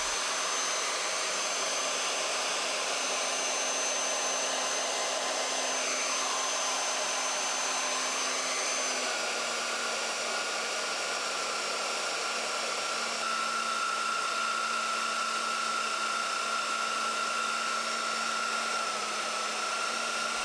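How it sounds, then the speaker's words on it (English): A HolzMann MBM magnetic drill drives an annular cutter through a 60 mm thick steel collar, cutting a 50 mm hole; a steady, loud motor whine and grinding hum run throughout, with the pitch shifting partway through as the cutter breaks through. "here comes the time when the cutter goes through and the hole is done"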